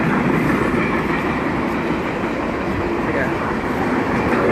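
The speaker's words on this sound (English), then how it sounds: "Oh, there's the train." A train passes along a railway close by, its steady broadband rumble and wheel noise filling the whole stretch at a constant loud level with no break.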